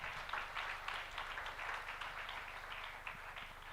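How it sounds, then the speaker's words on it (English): Conference audience applauds steadily, a dense continuous patter of many hands clapping throughout, moderately distant with no voices over it. "can we have another round of applause to Sheikh?"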